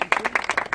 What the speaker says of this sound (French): Ça a mené une acclamation au Seigneur.